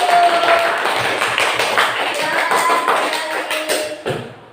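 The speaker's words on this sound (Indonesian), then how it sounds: "beri tepuk tangan untuk kelompok 1" A classroom of students claps for group 1, a loud burst of uneven hand claps and taps that thins into scattered claps before fading.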